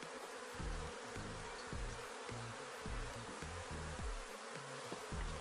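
Bees buzz in a dense, steady drone close by while a queen bee is being caught at the hive, loud and continuous with no speech.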